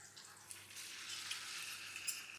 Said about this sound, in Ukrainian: Я зменшу вогонь, томати у мене собі смажаться.